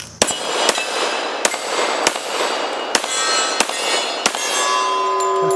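A premium pistol fires several sharp, loud reports at uneven intervals over a steady background hiss, with no talking.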